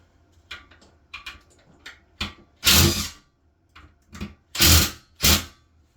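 Short bursts of a power drill whirring while building closet shelves, three louder spurts among smaller intermittent mechanical clicks and buzzes, fairly close.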